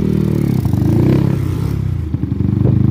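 A Honda Titan motorcycle with a new engine runs on the street. Its low, throbbing exhaust note is close and loud, rising and falling as the throttle is worked, with some mechanical clatter.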